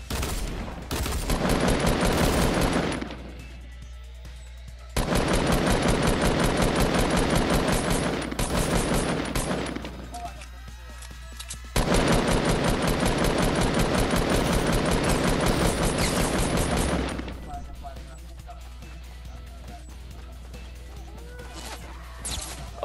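Fortnite gunfire in long, loud bursts of rapid automatic shots, three sustained volleys separated by short quieter gaps, with little else over them.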